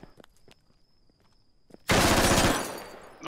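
In the tactical shooter game Squad, quiet footsteps and faint clicks give way to a sudden loud burst of gunfire that rings out and slowly decays, close and without talk.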